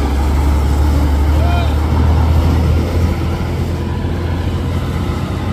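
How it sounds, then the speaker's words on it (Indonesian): A Putra Simas bus rolls downhill on a hillside road, its steady low engine rumble loud and continuous with broadband road noise, fading slightly toward the end. "dari atas ada bus Putra Simas"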